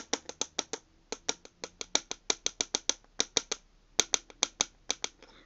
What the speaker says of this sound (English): you're gonna start like just chopping it them.